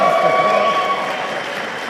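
Arena crowd at a lightsaber fencing pool match applauding, a dense steady wash of clapping that holds loud throughout and tapers slightly, with a commentator's voice faintly over it.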